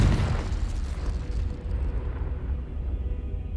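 A Confrigo blasting spell explodes in Hogwarts Legacy as a loud, deep burst at the start. A rumbling, crackling tail follows and slowly fades over the next few seconds.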